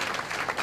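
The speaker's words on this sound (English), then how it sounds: "There's a standing ovation for these veterans as they get off the plane." Brief burst of applause and clapping from a waiting crowd greeting veterans as they step off a plane, fairly close and full.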